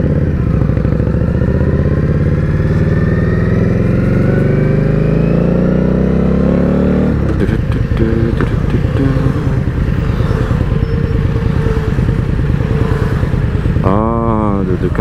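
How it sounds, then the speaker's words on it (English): Ducati motorcycles riding past at a motorcycle meet, their loud engine roar rising and shifting in pitch as they pass close by, with people talking over the steady rumble. "Ah, the Ducatis are riding by themselves."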